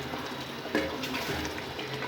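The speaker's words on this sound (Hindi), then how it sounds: "अब इसमें थोड़ा सा पानी ऐड करते हैं" Water is poured into a cooking pot holding bottle gourd and chicken curry, giving a steady, soft splashing pour that lasts about two seconds.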